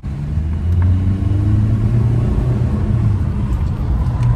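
A SsangYong Korando car accelerating in normal driving mode, heard from inside the cabin as a steady, loud engine and road rumble with rising harmonic engine tones throughout, no talking.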